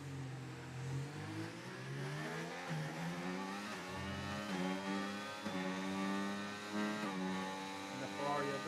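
A Ferrari race car engine in a racing video game at Montreal, revving steadily with rising and shifting pitch through repeated gear changes, with a voice talking over it.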